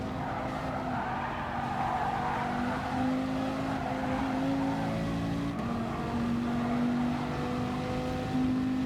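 Dodge Viper Gr.3 race cars lapping Spa Francorchamps in Gran Turismo, a steady loud engine drone with shifting pitch and tire squeal running throughout, with no talking.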